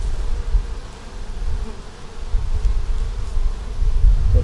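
Honeybees drone in a steady, dense buzz around an open hive that recently swarmed, close and continuous with no talking, the hum swelling slightly toward the end.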